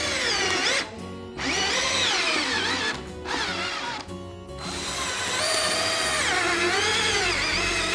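Power drill driving screws through a tire into its inner rim for a homemade ottoman, whining loudly and steadily in three long bursts separated by brief pauses.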